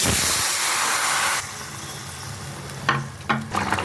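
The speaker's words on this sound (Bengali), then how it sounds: "তেলটা গরম হয়ে গেছে, এখন আমি মাছগুলো আস্তে করে," Pabda fish frying in hot oil, a loud, bright sizzle that surges at the start as the fish goes in, then settles into a steady softer crackle with a few sharp pops and scrapes near the end.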